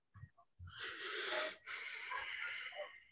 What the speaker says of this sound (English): Who breathing hard?